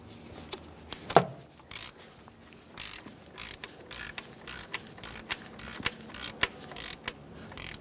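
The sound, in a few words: torque wrench tightening intake manifold bolts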